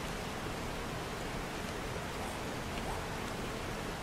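Steady, dense rain hisses evenly throughout in the game 7 Days to Die, a constant wash of falling water with no talk over it.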